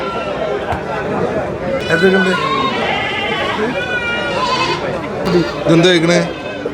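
Hyderabadi goats bleating at a busy goat market, with several drawn-out bleats rising over steady chatter and people talking close by.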